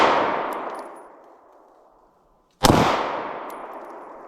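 Two loud, sharp shots from a Taurus GX4 Micro pistol crack out about two and a half seconds apart, each followed by a long ringing decay.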